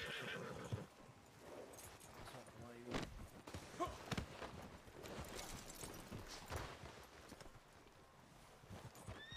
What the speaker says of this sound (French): Je vais mettre le cheval ici.